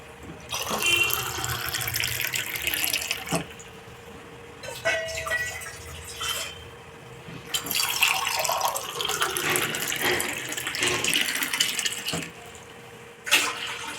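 Water pours and splashes into a cooking pot in several bursts, three glasses measured for a vegetable jowar khichdi, with brief pauses between, up close and fairly quiet.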